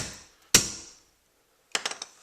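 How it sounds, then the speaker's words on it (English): A single sharp tap from a fiberglass hammer on an M60 top cover, then a quick cluster of lighter taps a moment later, close and crisp against quiet. "a light tap with the fiberglass hammer"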